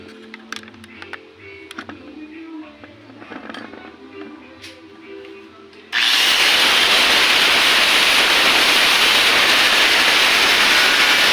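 A power tool bites into a small 2-inch piece of wood for a clamp, starting after light tapping and handling sounds and then roaring loud and steady at close range until the end.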